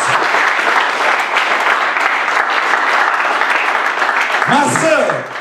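Church congregation applauding together, a dense, steady wash of clapping from many hands that holds loud for several seconds before thinning out, with a few voices rising near the end.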